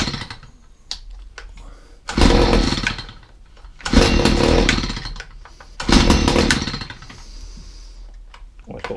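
A Stihl HS45 two-stroke hedge trimmer engine is pull-started, giving three loud, rough bursts of roughly a second each, separated by pauses and quieter mechanical clatter, with no talk.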